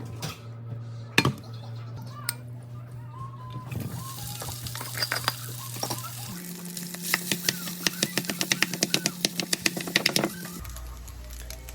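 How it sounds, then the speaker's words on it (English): Cooked rice is tossed in a pan for vegetable fried rice, with a light sizzle under rapid, clattering spatula strikes against the metal, growing busier and sharper toward the end. "On the same pan again, we're going to fry the cooked rice."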